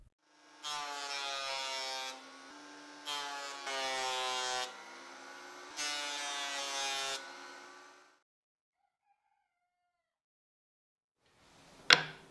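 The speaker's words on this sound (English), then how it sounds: "I'll pass them through the planer again" A wood planer machines glued wood pieces in several loud, buzzing runs of a couple of seconds each with short gaps, then quiet, ending with a brief sharp clatter.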